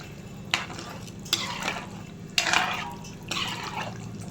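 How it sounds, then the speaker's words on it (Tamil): Fish curry masala with chilli powder being stirred in a pot, giving a few wet scraping and sloshing strokes of a spoon at a steady pace, close and fairly quiet with no talking. "நல்லா கிளறி விட்டுருங்க."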